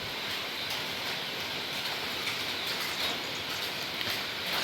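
Steady first rain of the year falling outdoors, an even broadband hiss of drops with some larger drops, continuous and moderately close with no voices.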